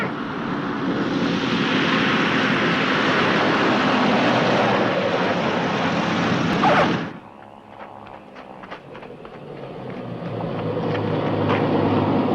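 A loud, droning propeller airplane roar holds steady overhead above an island, then cuts off abruptly partway through, leaving a quieter rumble that slowly builds again.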